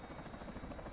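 Helicopter in the Arma 3 video game flying steadily, a loud continuous rotor and engine drone with rhythmic blade pulsing throughout, no talking over it.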